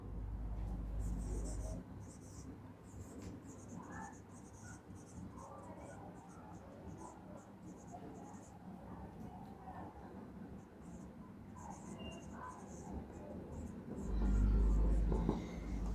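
Chalk or marker strokes scrape across a classroom board in steady bursts, faint and continuous under a low room hum, with a louder thump near the start and end.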